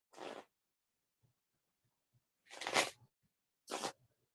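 A deck of playing cards is shuffled in three short, crisp riffling bursts separated by quiet pauses, close to the microphone.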